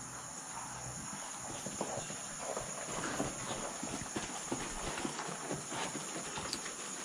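Hooves of a young horse with limited muscle mass clip-clopping on the ground during a training session, the faint beats steady and rhythmic under heavy, constant background hiss.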